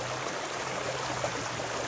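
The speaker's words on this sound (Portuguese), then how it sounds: "Um córrego, né?" A stream flowing through a rural smallholding area in Goiânia, Brazil, giving a steady, even rush of water with constant broadband hiss and no pauses, moderately close and alone.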